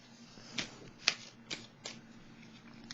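Tarot cards being shuffled by hand: a series of crisp riffling bursts and soft slaps at an uneven rhythm, close and clear against a quiet room with no talking.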